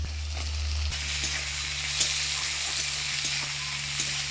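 Chopped onion and tomatoes fry in a pan tempered with dried chili and whole cumin in a village kitchen, giving a steady, close sizzle and crackle over a low constant hum, with no talking.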